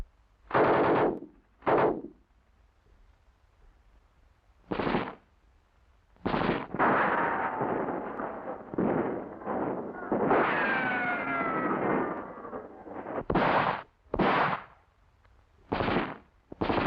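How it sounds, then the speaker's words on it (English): Heavy machine guns firing at the front line, sharp loud bursts of automatic fire separated by short pauses, with a longer sustained burst in the middle and several quick final bursts. "Heavy MGs have especially good firepower. Like here, they're often emplaced right in the front line."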